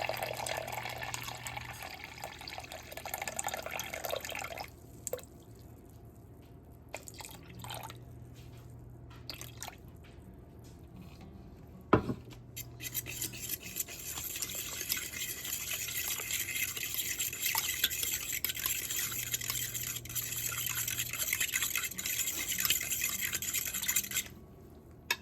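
Water being poured into a bowl for sourdough bread dough, a soft trickling and dripping that comes and goes, faint and continuous across a long stretch with a few small knocks.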